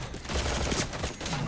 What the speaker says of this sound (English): We got sniper shots.